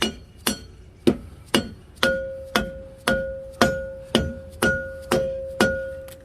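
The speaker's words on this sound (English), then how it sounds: "I'm using a dead blow, so if I accidentally hit the studs, I don't mess them up." A dead blow hammer strikes wheel studs during a roadside repair, about a dozen sharp, evenly spaced blows in a steady rhythm, each leaving a short metallic ring. The hits are close and loud, with no talk.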